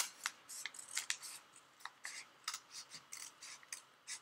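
Scissors slice through folded paper in a close, crisp series of short snips, about a dozen quick cuts in an uneven rhythm, fairly quiet with nothing else around them.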